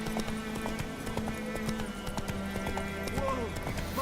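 Roach the horse in the Witcher 3 video game trots with rapid clip-clop hoofbeats on a road, close and steady, with a short neigh near the end, over a faint game background.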